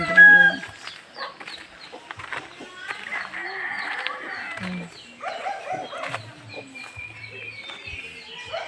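Chickens clucking near their chicks in a backyard pen, with a rooster among them, several birds calling close by in short irregular bursts while a person talks over them.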